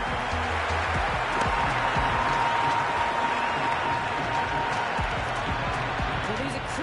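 A stadium crowd roars and cheers in the cricket video game Cricket 26 during a Rajasthan versus Mumbai match, a steady loud wash of crowd noise with a commentator talking over it.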